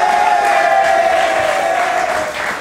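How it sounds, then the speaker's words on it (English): A school quiz final audience cheers and claps, a loud crowd roar with a sustained whistle or shouted tone riding over it, easing slightly toward the end. "a round of applause"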